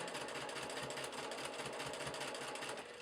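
Sewing machine running at a steady, even chug while stitching rick rack edging onto fabric, a continuous close mechanical whir with a regular pulsing rhythm and no talk.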